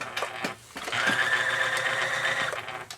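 A worn 1471-model sewing machine with inadequate motor brushes whirs into motion, a steady whining hum lasting about a second and a half after a few light clicks, then winding down, close and fairly quiet.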